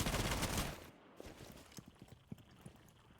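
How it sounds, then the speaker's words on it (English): Gunfire fired through a wall in Rainbow Six Siege, played in a competitive esports match on the Coastline map: a dense burst of shots at first, then scattered sharp reports and clicks, fairly quiet. "Going for the wall bang."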